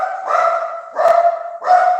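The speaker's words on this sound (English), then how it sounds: "Hey, that's my dog." A pet dog barks at the doorbell, three loud, close barks in quick succession with brief gaps between them.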